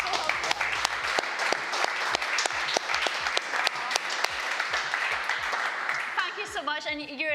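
Dense applause and clapping from an audience at an awards-style event, steady and loud for about six seconds before tapering off, with cheering voices rising at the end.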